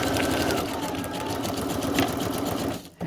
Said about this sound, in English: I'm just going to be quiet a little bit while I sew this down